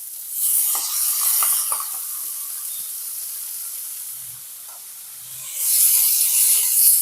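An onion-tomato paste is added to a hot pan of fried spring onions and sizzles loudly with a hissing spray. The hiss eases for a few seconds, then surges again as the paste is stirred in.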